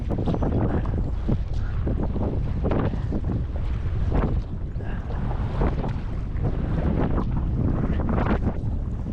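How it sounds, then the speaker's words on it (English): Strong, steady wind buffets the microphone outdoors near a lake and waterfalls, a loud continuous roar with gusty surges throughout and no voices. "As I'm getting closer to the trees, the wind is starting to get less and less"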